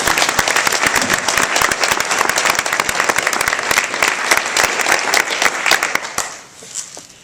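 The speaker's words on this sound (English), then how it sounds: "So let's applaud that." An audience at an Angela Davis lecture breaks into loud, sustained applause, dense clapping filling the room for several seconds before quickly dying away.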